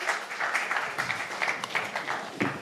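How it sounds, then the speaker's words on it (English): A group applauding at an event, a continuous patter of many hands clapping, moderately loud and fairly close, then thinning toward the end. "I suggest we all give ourselves a huge clap"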